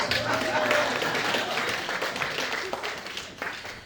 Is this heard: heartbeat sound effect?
no